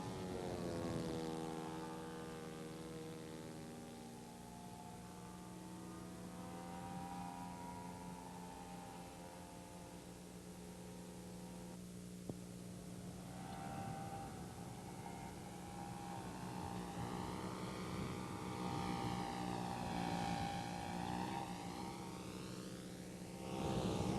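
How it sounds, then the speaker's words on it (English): A vintage radio-controlled model airplane from a 1986 flying session makes a low flyby and landing approach, its small engine droning steadily with a rising, falling whine as it passes, continuous and moderately loud over open-air background. "Let's bring her down for one more low flyby and settle in for our landing approach."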